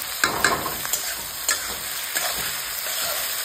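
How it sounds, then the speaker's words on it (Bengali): Ground ginger, garlic and chili paste fries in a pan with a continuous soft sizzle. Light stirring clicks and scrapes tap irregularly through it, close by and with no voices. "আদা, রসুন, মরিচ এক লোকে বেটালাই, ওই মশলাটা জ্বালাইতেছি"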